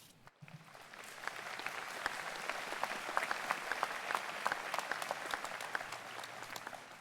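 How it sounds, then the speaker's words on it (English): A commencement audience applauds at a 2019 graduation ceremony, a dense, steady wash of many hands clapping that swells and holds for several seconds without any voices over it. "You definitely deserve a huge round of applause."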